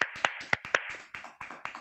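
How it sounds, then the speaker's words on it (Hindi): A few people clap in honour of TC ji at a team meeting, about eight sparse, uneven hand claps in under two seconds, close and dry. "तो हमारे विजनरी पर्सन आदरणीय टीसी जी को सम्मान में एक बार जबरदस्त तालियां चाहेंगे"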